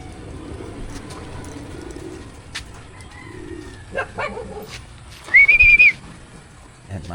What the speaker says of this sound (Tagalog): maaga magdating ang kalapati natin pero ayaw magsipasok